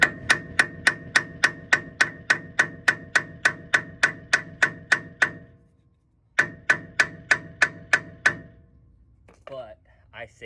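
A hammer taps around the hub edge of a Toyota T100 during a manual hub swap. About eighteen sharp, evenly spaced metallic raps come first, then a short pause and eight more, followed by brief talking.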